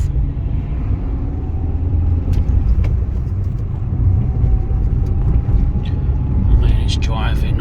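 A Fiat 500 1.2 car driving on a rough rural road in North Kent, a steady low engine and road rumble heard from inside the cabin throughout, with occasional light knocks and a voice speaking.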